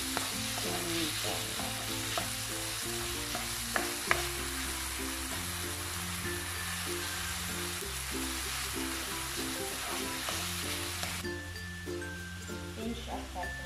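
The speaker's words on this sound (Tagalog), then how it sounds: "Caramelize natin ang tomato" Tomato caramelizing in a frying pan, a continuous close sizzle with occasional stirring clinks, while a person talks over much of it.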